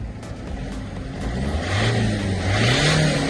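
Used Volkswagen Golf with a supposedly new engine revving while checked for black smoke: steady idle rumble, then a rising rev that holds high and close.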